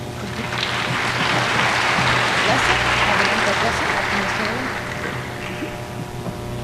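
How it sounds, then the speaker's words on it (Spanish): A conference audience at an annual scientific meeting on metabolic syndrome gives sustained applause, a dense wash of clapping that swells and then tapers off toward the end, with no talking over it. "Damos un fuerte aplauso, por favor."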